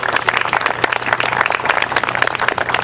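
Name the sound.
audience applause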